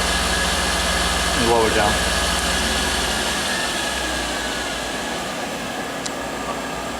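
A Sunnen EC-3500E power stroking precision honing machine runs with a steady mechanical hum and drone, its pitch shifting briefly as the speed changes, while someone talks over it.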